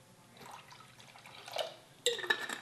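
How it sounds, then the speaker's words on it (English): Apple cider vinegar is poured into an elderberry herbal tonic: faint, brief trickles and drips with a light glassy splash near the end, quiet and without talk. "I'm gonna add a little more apple cider vinegar."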